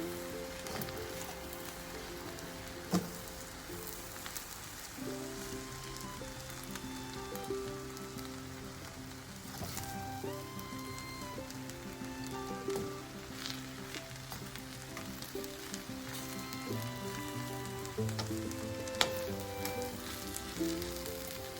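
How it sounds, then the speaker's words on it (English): Gizzard fried rice with soy sauce sizzles in a pan while being stirred: a constant close crackle with occasional scraping and clinks of the spoon against the pan. "you add on your soy sauce and you continue to stir"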